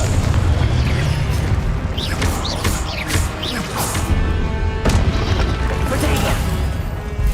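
Spell blasts from the Confringo fire spell in the Hogwarts Legacy video game, a run of booming, crashing explosions, dense and loud over a constant background of battle noise and music.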